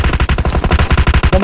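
Rapid automatic gunfire from PUBG Mobile, a loud, close, continuous burst of evenly spaced shots with no voices over it.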